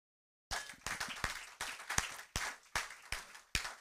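A church congregation claps in a steady, rhythmic beat of about nine loud claps that starts after a brief silence and carries on without voices.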